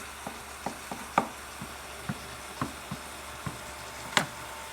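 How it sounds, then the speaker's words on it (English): Mushrooms and garlic sautéing in a pan, a soft steady sizzle with scattered light clicks and taps of a utensil against the pan, close and moderately quiet, with no one talking. "So we got our mushrooms in with our garlic, sauteing up."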